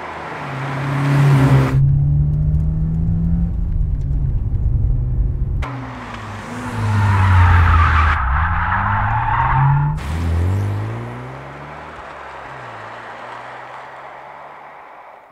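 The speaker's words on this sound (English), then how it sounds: "I have prepared also some engine sounds from our libraries." Library recordings of a car engine rev hard and drop back in repeated surges, with tyres skidding and squealing between the revs, loud and close with abrupt cuts between takes.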